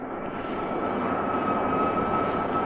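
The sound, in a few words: jet aircraft engine at full throttle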